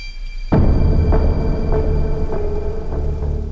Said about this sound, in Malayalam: ആദ്യം മഴ തോരട്ടെ.